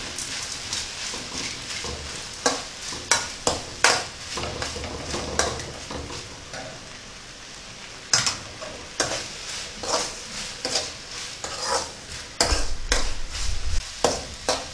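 Onion and tomato sautéed with salt in a pot, a spoon scraping and clattering in uneven bursts over a continuous frying sizzle, close and fairly loud, without speech.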